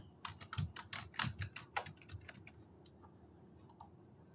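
Typing on a computer keyboard while writing Python string code, a steady run of quick, close key clicks with uneven rhythm and a few louder strikes, alone without talk.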